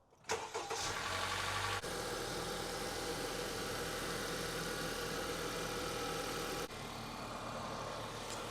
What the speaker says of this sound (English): go ahead, turn on the vehicle, and then we're gonna check for leaks